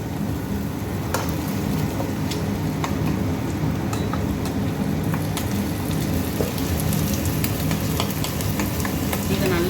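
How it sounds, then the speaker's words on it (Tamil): Ginger garlic paste frying and being stirred in a pan for mutton liver fry, giving a steady close sizzle with repeated scraping stirs throughout, with no talk. "இஞ்சி பூண்டு விழுத நான் போடுறேன்"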